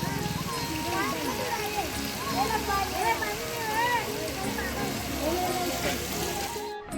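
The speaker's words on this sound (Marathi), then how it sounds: "भाजी धबधबा" Bhaje waterfall in Lonavala, a busy family spot, fills the scene with a steady broadband rush of falling water, heard throughout beneath constant overlapping chatter from a crowd of visitors nearby.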